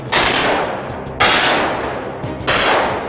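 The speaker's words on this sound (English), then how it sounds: "We have constant gunfires." Three loud bursts of blank gunfire from LAPD SWAT officers on a TV crime-drama street set, each a sharp crack trailing into a long rumbling wash, spaced about a second apart with no voices.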